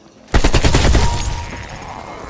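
A rapid burst of automatic gunfire in Call of Duty: Black Ops Cold War zombies mode, loud and close, rattles off in quick succession before trailing into a fading echo.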